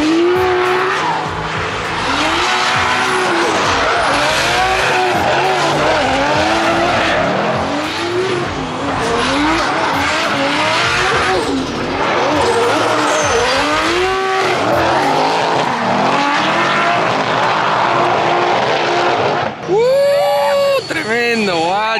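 At a drift park, a pro competition drift car powers through sustained slides, its engine howling and rising and falling as the tires scream in repeated wailing squeals, loud and close, ending with a different engine note briefly.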